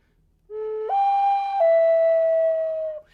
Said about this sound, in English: I had my flute with me